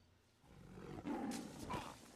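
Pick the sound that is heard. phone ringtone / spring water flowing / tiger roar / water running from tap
tiger roar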